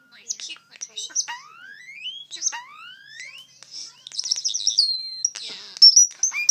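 A pet bird chirps and whistles in rising slides and quick tweets, clear and close, with a person talking softly in between.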